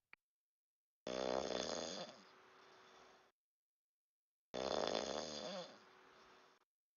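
A person snoring, two long rasping snores a few seconds apart with silence between them, fairly faint and close, with no talk over them.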